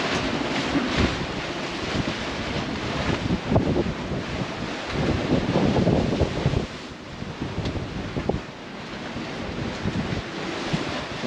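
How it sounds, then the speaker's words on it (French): Sea waves and wind around a sailing catamaran in a choppy sea, a continuous loud rush of wind noise and surf with swells rising and easing, no voices. "Il y a des périodes de vagues comme ça là."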